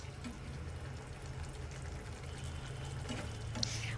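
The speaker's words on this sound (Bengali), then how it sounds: "আমি পানি দিয়ে দিলাম" Hot water pours steadily into a simmering rohu fish curry with pumpkin vadi, a soft continuous splashing and trickle at low volume with no talking.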